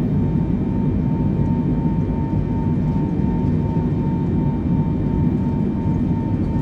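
Boeing 747 accelerating down the runway for takeoff in Microsoft Flight Simulator, a steady deep engine roar with a faint high tone, loud and unbroken throughout.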